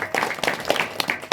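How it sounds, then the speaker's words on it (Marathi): An audience at a kirtan gathering claps together, a short, close burst of uneven handclaps lasting just over a second. "बघा त्यांच्यासाठी एकदा जोरदार टाळ्या वाजवा."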